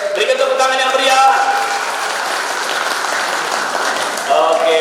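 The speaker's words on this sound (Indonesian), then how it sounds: "Berikan tepuk tangan yang meriah." Applause from guests during a church wedding blessing ceremony at GMI Immanuel, a steady crowd clapping that fills the whole stretch, with voices and faint tones heard over it near the start and end.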